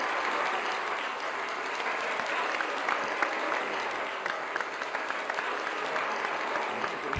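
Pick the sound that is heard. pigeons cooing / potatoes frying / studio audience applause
studio audience applause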